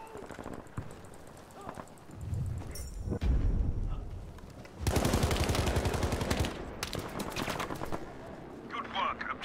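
Gunfire rattles through a Battlefield V match in bursts and single cracks, rising into a dense, loud barrage midway, with players talking over the shooting.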